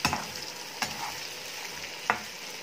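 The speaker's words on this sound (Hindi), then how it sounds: "आलू को अभी मैं मसाला अंदर तक जाने तक मैं कम से कम 5 मिनट तक पकाऊंगी।" Potato cubes with spices, jeera aloo, cooking in a pan, with a soft steady sizzle and three sharp spoon scrapes or stirs spaced about a second apart, close and fairly quiet.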